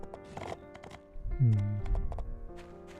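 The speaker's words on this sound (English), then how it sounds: "I've been running like full speed on the horse." A horse gallops in the video game My Time At Portia, with steady hoofbeats and a brief whinny heard over layered game music.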